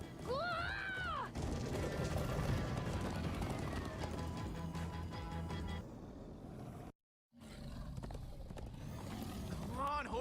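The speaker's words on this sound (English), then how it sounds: "Come on, horses!" Horses gallop in Minecraft Story Mode with steady, loud hoofbeats and a whinny near the start, running continuously under game music, with a brief drop to silence before the galloping resumes.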